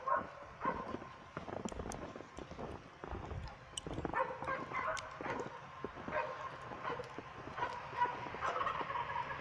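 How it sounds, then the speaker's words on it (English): A turkey gobbling outdoors on a snowy day, fairly distant and faint, with repeated bursts mixed with dogs barking and yipping nearby. "Random turkey is making noise."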